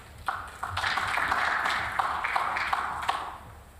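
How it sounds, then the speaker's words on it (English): Polite applause from a snooker crowd after a good red pot in a professional qualifying match, a steady patter of clapping lasting a few seconds before fading out, with no talk over it. "the applause that he received there was fully merited"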